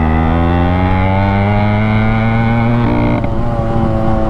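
Yamaha RX135 two-stroke motorcycle with a modified exhaust runs loud and close, giving a raw, raspy, steady drone that shifts pitch slightly near the end.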